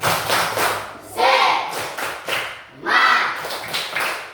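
Schoolchildren in a classroom perform a rhythmic clap chant, bursts of group clapping alternating with shouted chanting voices in a steady pattern, loud and close.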